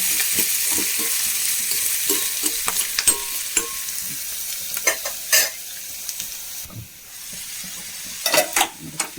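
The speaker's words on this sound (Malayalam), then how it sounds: "ഇച്ചിരി വെന്തിട്ടില്ല നമുക്കൊന്ന് ഇളക്കി കൊടുക്കാം" Chopped onions frying in coconut oil for a home lunch, stirred now and then, a steady close sizzle and hiss broken by scraping, clattering stirs with a spoon against the pan.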